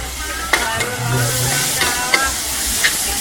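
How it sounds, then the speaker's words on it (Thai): Continuous sizzling and frying of pad Thai in a wok at a busy Thai street stall, with sharp metallic scrapes of a spatula stirring, steady and close, no voices. "นี่ทุกคนเขาผัดกระทะต่อกระทะเลยไม่ไม่มีหยุดเลย"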